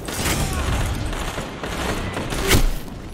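Gunfire from a first-person shooter played on PC, with a dense, continuous spread of shots and a heavier burst near the end, all fairly loud and without talk over it.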